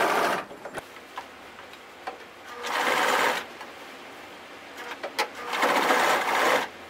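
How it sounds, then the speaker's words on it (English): A sewing machine lock-stitching the waistline of a skirt, running in two steady whirring bursts of a second or so with short pauses and light handling clicks between, close and clear, no talk. "Now we can sew this together. First, we lock stitch the waistline."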